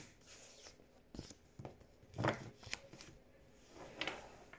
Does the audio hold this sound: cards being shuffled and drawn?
yes